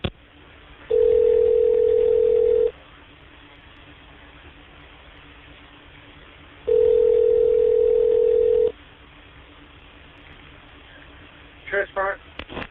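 Telephone ringback tones during a call transfer, two long steady beeps separated by a couple of seconds of line hiss, followed by brief dialing tones at the end.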